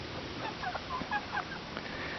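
Backyard chickens cluck in short, scattered calls at a moderate distance, over a low steady background hum.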